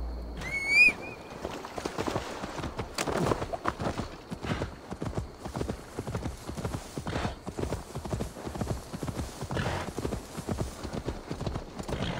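Horse hooves clip-clopping in the Assassin's Creed Valhalla video game, a steady, rapid trotting rhythm under faint ambience, with a brief whinny or bird call near the start.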